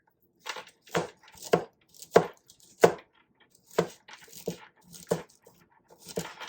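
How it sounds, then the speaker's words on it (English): Celery and potatoes chopped on a cutting board, a steady series of crisp knife thuds about every half second, close and clear, with no talking. "I've got my celery to chop and my potatoes."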